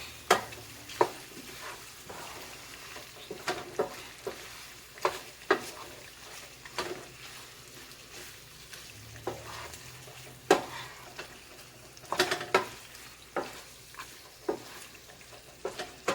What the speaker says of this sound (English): I'm gonna stir in my shrimp